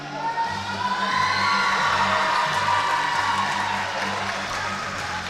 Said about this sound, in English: they're getting a little chant going here